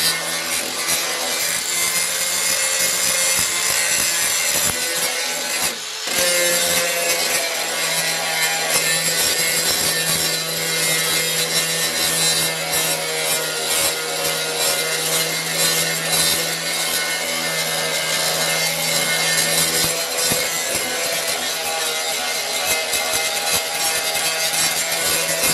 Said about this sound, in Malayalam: തൽക്കാലം ഞാനിവിടെ ഗ്രൈൻഡർ ഉപയോഗിക്കുകയാണ്.